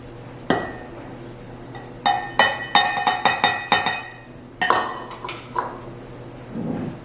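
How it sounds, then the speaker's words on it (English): While flour and salt go into almond cake batter, a utensil rings against a glass bowl in a burst of sharp, close clinks and taps, with a soft rustle near the end. "Now we're going to add our flour and salt."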